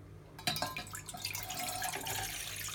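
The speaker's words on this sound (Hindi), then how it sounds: "ये मैंने पानी डाल दिया." Cold water poured into a pan on a stove before making Kashmiri tea, a steady splashing pour that starts abruptly and continues as a close, full-bodied flow.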